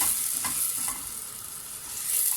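A medium onion sizzling and frying in half a tea glass of vegetable oil for Erzincan tarhana soup, a steady close hiss with faint stirring scrapes, no voices.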